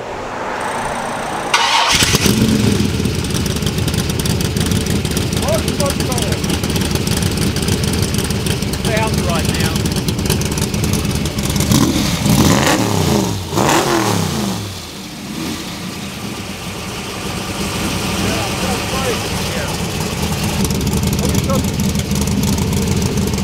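An all-aluminum 427 Cobra engine cranks and fires up, then settles into a loud, rumbling idle with repeated throttle blips and revs, close and dominant; voices of people talking are heard beneath the engine noise.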